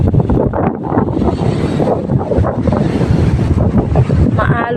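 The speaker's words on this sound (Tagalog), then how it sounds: "Maalon na malakas ang hangin." Strong wind roars steadily against the microphone while rough sea waves crash and wash continuously at a beachside resort during the northeast monsoon, loud and close, with no clear talking.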